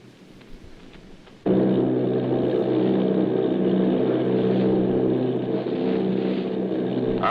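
Droning multi-engine army bomber planes from a radio drama sound effect, a loud steady roar that starts abruptly after a quiet moment and holds without a break.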